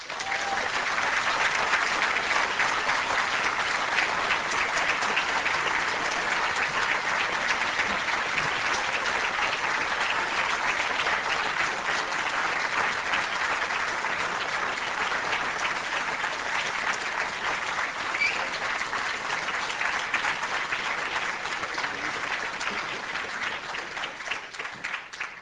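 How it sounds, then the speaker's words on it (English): Sustained audience applause fills a hall at a 2002 Washington debate between Christopher Hitchens and Tariq Ali, a dense, steady wash of many hands clapping that holds at full strength for about twenty-five seconds before easing slightly at the end. "It's okay to hold your applause, ladies and gentlemen."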